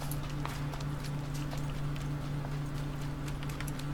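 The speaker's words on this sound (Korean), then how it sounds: "발소리." Footsteps from the battle-royale shooter PUBG (Battlegrounds), a steady run of rapid thuds over a constant low in-game hum, moderately loud throughout.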